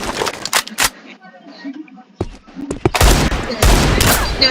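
Revolver shots ring out in a video game, a few sharp loud bursts with a quieter gap between them, followed by dense noisy firing toward the end, with a voice talking over parts of it.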